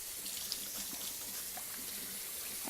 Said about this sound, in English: I'm gonna give my hands just a quick rinse here